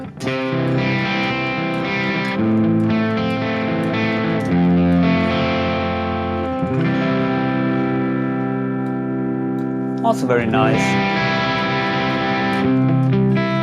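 Electric guitar played with a crunchy overdriven tone through a Sonicake Matribox 2 Pro multi-effects unit, ringing chords and sustained notes that decay, then a fresh strum near the end, with a brief spoken remark.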